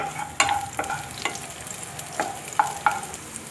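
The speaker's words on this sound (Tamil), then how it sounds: "அதை கொஞ்சம் நல்லா ஃப்ரை பண்ணிக்கோங்க." Finely chopped garlic and ginger fry in hot oil in a pan, with a soft steady sizzle broken by several sharp scraping stirs of a spatula at irregular intervals.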